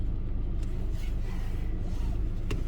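A 2018 Honda Civic E with a 1.8 liter gas engine, front-wheel drive and CVT, on a test drive: steady low engine and road rumble heard from inside the cabin, continuous and even, with no talking.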